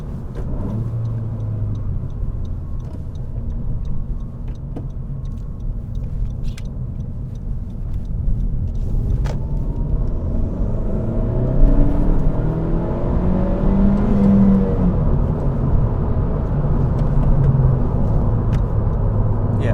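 A 2017 Honda Civic Si with about 100,000 miles, in sport mode, accelerates hard, its engine a steady, continuous drone and road rumble that climbs slightly in pitch and loudness as it winds out.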